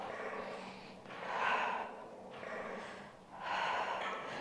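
Breathy exhales during a Pilates reformer workout, two long soft rushes of air with a pause between, close and fairly quiet with no speech over them.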